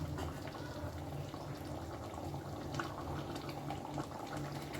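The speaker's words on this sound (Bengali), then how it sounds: "আরও মিনিট খানেক এটাকে একটু হাই ফ্লেমে একটু ফুটিয়ে নিয়ে নামিয়ে ফেলব" Mung dal with ridge gourd boiling hard over a high flame, a thick, continuous bubbling and gurgling heard up close with no pauses and no voices.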